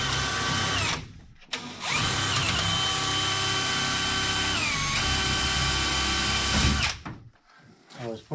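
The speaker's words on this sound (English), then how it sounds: "Mike's just drilling holes." A power drill bores holes in a basement wall during a rough-in, whining loudly and steadily for several seconds with brief pauses at the start and a tapering finish.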